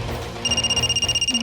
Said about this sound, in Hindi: ममता का फोन है क्या?